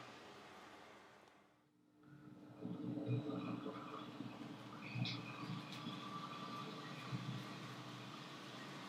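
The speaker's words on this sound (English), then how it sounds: "it now sets off up the bank. This in fact is a representation of the famous Glacier Express with its panorama" A model railway locomotive hauls a Swiss Glacier Express set with panorama carriages up a gradient on a layout, giving a steady, moderate motor hum and rolling rumble after a short lull, with faint clicks and no talking.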